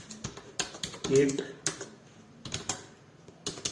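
Computer keyboard typing during a JavaScript coding lesson: quick, irregular close clicks and taps in short bursts, running under continuous speech.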